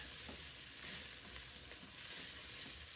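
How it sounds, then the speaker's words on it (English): Mushrooms frying and being stirred in a pan for a pasta sauce, giving a steady soft sizzle with faint scraping stirs, close and quiet, with no talking. "So here I am stirring the mushrooms in."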